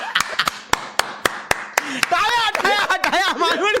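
Audience clapping for a Malvani comedian at a live comedy show: scattered sharp claps at first, then crowd noise and voices rising and overlapping toward the end.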